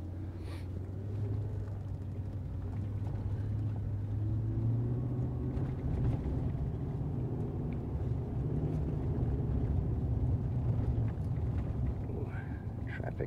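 City street traffic, a steady low rumble of passing vehicles with engine drone and wind buffeting the microphone, continuous and fairly close throughout.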